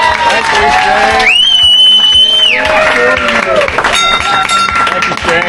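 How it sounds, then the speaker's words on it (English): Audience clapping and cheering for a retiring airline pilot and veteran with 34 years of flying, a steady wash of applause close by, with voices talking over it and a brief whistle-like tone. "Give him a round of applause."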